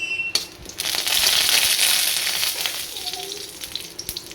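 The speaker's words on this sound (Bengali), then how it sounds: "শুকনো লঙ্কা ফোড়ন দিলাম।" Dried red chillies dropped into hot oil for tempering, for an oats khichuri and boal fish meal, give an immediate loud close sizzle and crackle that slowly settles into a lighter frying hiss.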